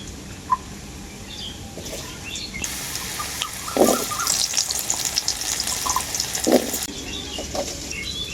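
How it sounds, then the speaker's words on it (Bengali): Potatoes frying in mustard oil in a wok give a steady, moderate sizzle with a few brief louder spits and crackles; no one speaks. "কড়াইয়ের মধ্যে দিয়ে দেবো আবারও সর্ষের তেল পটলের এই রেসিপিতে আমি আলুও দেব তো এরপর আমি আলুটা ভেজে নেব"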